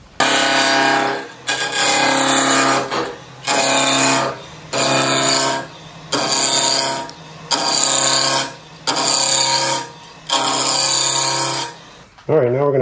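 A wood lathe turning a spinning top as a tool flattens and rounds the blank, producing loud repeated scraping passes of about a second each with short gaps between them.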